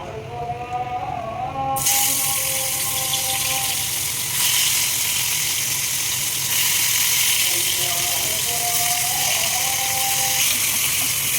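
Tamarind frying in a little oil in a pan for tamarind pachadi, giving a steady loud sizzling hiss that carries throughout, with a voice briefly audible at the start.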